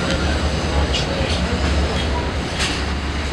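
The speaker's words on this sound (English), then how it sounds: "I am on a train" Steady low rumble of a MARC commuter train running between Baltimore and DC, heard from inside the car, with constant rolling noise, faint higher rattles and a few brief hisses.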